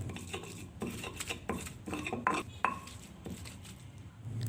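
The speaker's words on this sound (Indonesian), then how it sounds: "Kemudian saya giling dulu sampai halus." Curly red chilies being ground fine for beef rendang, heard as close, irregular scraping and clattering knocks of a grinder or mortar, uneven bursts with short pauses.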